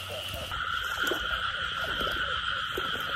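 Field frogs croak at night in rain-soaked farmland, repeated low calls close by over a steady wash of rain and insect-like hiss.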